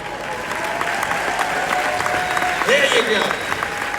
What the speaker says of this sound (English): Clap it up if you want to see what happens.